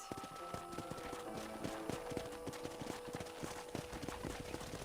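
Horse hooves clip-clop in a steady, brisk rhythm in the Red Dead Redemption video game, clear and close, over a constant background hum and soft ambient game sound.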